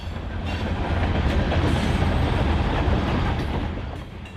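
A Kansas City Southern F7A locomotive runs on a model railroad layout past a steelworks scene, a steady close rumble of wheels and track clatter that swells, holds, then eases off near the end.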